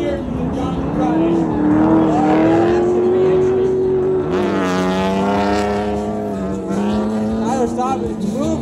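A BMW E36 drift car's engine roars continuously through a drifting run, its pitch climbing and falling as the throttle is worked. It stays loud and close throughout.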